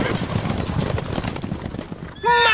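Horses gallop and neigh in the medieval strategy game Stronghold Crusader: a rolling, hoof-heavy rumble of cavalry gives way to a loud, sharp whinny near the end.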